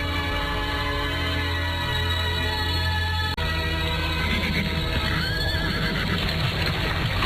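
Carriage horses neigh and whinny over steady hoof clatter, loud and continuous beneath a dense music-like drone, with a brief dropout midway.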